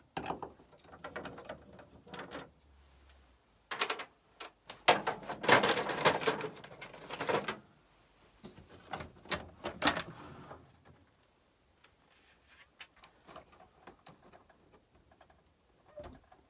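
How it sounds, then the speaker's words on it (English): Four corner screws being taken out of a caravan roof fan: scattered clicks, scrapes and handling clatter up close, some busy bursts and long quiet stretches, with no talking. "Now we've got 4 screws, one in each corner. Take those out."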